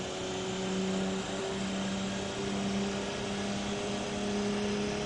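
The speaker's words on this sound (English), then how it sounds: "And you see how fast this car gets up to speed." An Audi race car in Assetto Corsa accelerating hard, a steady loud engine drone with a sustained tonal whine that holds and shifts slightly over a few seconds, no talk.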